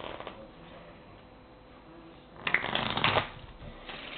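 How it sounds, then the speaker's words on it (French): A deck of playing cards is shuffled in preparation for a card trick. A quiet rustle builds into a brief, close, loud riffle of cards, followed by a few lighter flutters. "donc vous avez un jeu de cartes bien mélangé."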